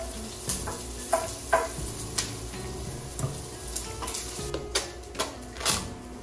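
Garlic and onion sautéing in oil and butter in a pan, with a continuous sizzle and repeated clanks and scrapes of a stirring utensil at an irregular pace.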